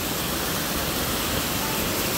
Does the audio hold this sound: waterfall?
yes